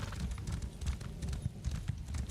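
Galloping horse hooves in The Elder Scrolls Online while the mount sprints, a rapid continuous clip-clop rhythm thudding close and steady for a couple of seconds.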